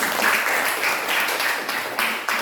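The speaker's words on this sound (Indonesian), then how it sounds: "tepuk tangan dulu buat kawan" A classroom crowd applauding steadily, dense clapping that swells in bursts, moderately loud and close, with no talking over it.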